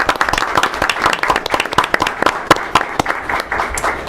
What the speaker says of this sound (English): So how about a round of applause for all of our teachers here.